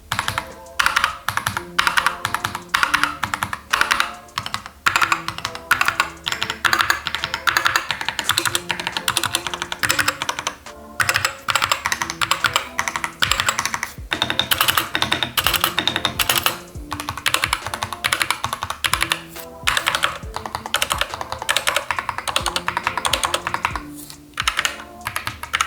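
Rapid typing on mechanical keyboards, an FL Esports CMK87-SA with Ice Mint switches and a year-old Dark Project board, dense continuous clacking close up with no talk.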